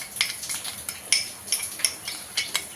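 A spoon scrapes and clinks against a pan in quick, repeated strokes as a sauce mixture is poured and stirred into sautéed capsicum, each scrape bright and close with no talking.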